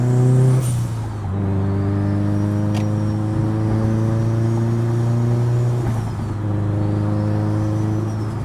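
Built Subaru STI with full bolt-ons, roughly 500 wheel horsepower, cruising on the road: a loud, steady engine drone with shifting pitch, one brief dip and change in tone partway through, and no talking.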